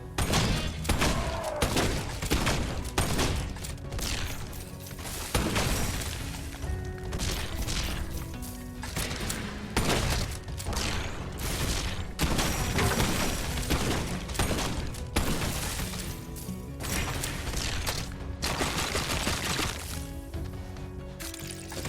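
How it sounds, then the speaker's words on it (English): Shotgun blasts and other combat noise from a grenadier enemy in the video game Wizard With A Gun, a dense, loud run of booms, crashes and impacts with little pause. "You can also occasionally put out shotgun blasts."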